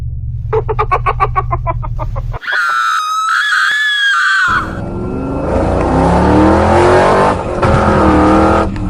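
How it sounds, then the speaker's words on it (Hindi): Car in a Granny-themed horror video game pulling away: a sharp scream-like cry, then an electronic whine and a loud engine roar with skidding tire squeal carrying on to the end. "और फिर सोन झट से गाड़ी निकालता है और सारे लोग गाड़ी में बैठकर वहाँ से ग्रैनी ग्रैंडपा घर जाने के लिए निकल जाते हैं।"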